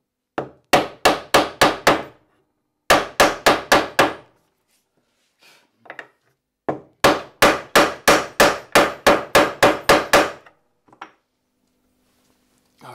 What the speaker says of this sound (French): je l'enfonce légèrement à la main et je finis au marteau.